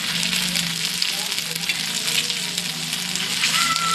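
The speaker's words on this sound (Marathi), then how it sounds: "डीप तेलामध्ये पण फ्राय करू शकता, पण या तेलामध्ये तवा फ्राय चांगलं लागणार डीपपेक्षा." Chicken pieces shallow-fry in oil on a tawa with a steady, close sizzle and crackle, continuous throughout, with faint stirring.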